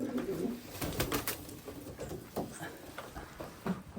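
Jumbo pigeons coo softly in repeated low, throaty bursts, with light rustling and shuffling around them.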